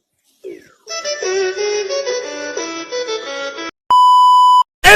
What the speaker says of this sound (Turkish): Benim telefon çalıyor bir dakika.